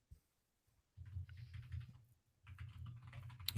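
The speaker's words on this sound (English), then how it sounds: "I am typing something. Maybe you're hearing the typing." Typing on a computer keyboard, close and quiet, in two bursts of rapid key clatter separated by a short pause, with no voices present.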